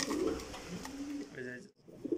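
Racing pigeons, a male and female pair, cooing softly up close in a loft, low throaty rolling coos with a brief pause near the end.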